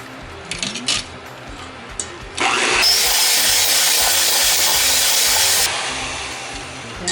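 An electric mixer beats eggs into vanilla cupcake batter, starting after a few light knocks and running as a loud, steady whir for several seconds before easing off.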